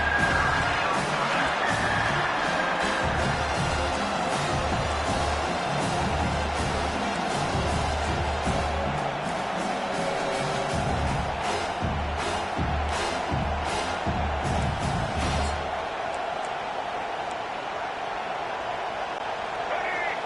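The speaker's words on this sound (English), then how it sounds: "Decibels rising as the crowd gets behind this defense on third down." Large football stadium crowd roaring steadily through a third-down defensive stand, a dense, loud wall of cheering that swells and holds for the whole stretch, with an announcer talking over it.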